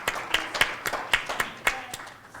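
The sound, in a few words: audience applause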